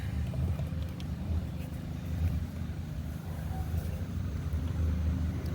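A Predator 212 small four-stroke engine with a no-start fault being spun over by hand, giving a steady mechanical churning and low rumble that holds through the whole stretch without firing.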